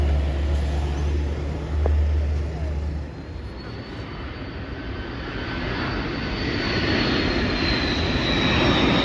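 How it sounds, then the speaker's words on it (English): A Jetstar airliner passes overhead at a Sydenham open day, its broad engine roar building steadily and staying loud throughout, with a low rumble near the start. "We're gonna have a lot of aircraft. Okay, Jetstar."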